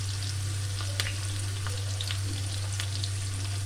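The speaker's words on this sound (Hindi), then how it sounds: "ये मीडियम फ्लेम पे आपने इसको फ्राई करना है" Onions frying on a medium flame for haleem, a steady close sizzle and crackle with a low constant hum underneath and a few sharper pops.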